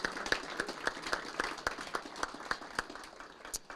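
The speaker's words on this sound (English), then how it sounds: "can we give our deputies and police personnel another round of applause?" City council meeting audience applauds deputies and police personnel, a thinner scattering of claps from a modest crowd with several sharp, distinct hand strikes standing out at an uneven rhythm.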